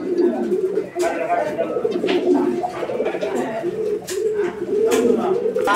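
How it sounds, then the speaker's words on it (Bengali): A pair of pigeons coo in low, repeated rolling calls close by, with a voice speaking over them throughout. "দেখেন অনেক সুন্দর একটা কবুতরের জোড়া।"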